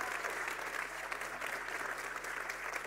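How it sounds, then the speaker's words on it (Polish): Audience applause at an open political campaign meeting in Poznań, a dense continuous wash of clapping from a large crowd, steady and fairly close throughout. "Wielkie brawa i dziękujemy!"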